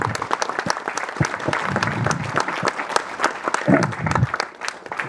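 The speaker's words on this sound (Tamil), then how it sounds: "அவருக்கு ஒரு பலத்த கைத்தட்டல் கொடுக்கும்." An audience claps loudly at a special film screening, with dense, sustained applause running throughout and a few faint crowd voices mixed in.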